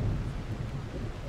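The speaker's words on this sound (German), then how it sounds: "weil ich finde das Gewitter schon sehr laut." Heavy thunderstorm rumble in the tavern-management game Tavern Master, a dense, loud, steady roar of rain and rolling thunder filling the low end with no pauses.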